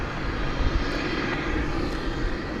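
An Aerologic Boeing 777 freighter, all white and five years old, on Flight 464 from Toronto at DFW Airport, its engines producing a dense, steady rumbling roar with slight fluctuations throughout the short stretch.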